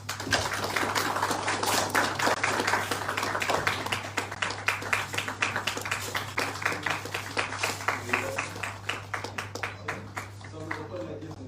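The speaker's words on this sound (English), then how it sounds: "We will clap our hands." An audience at the Indian National Congress manifesto launch event in Shillong, Meghalaya claps hands in a dense, sustained burst that gradually thins into scattered individual claps, with voices talking underneath and a steady electrical hum.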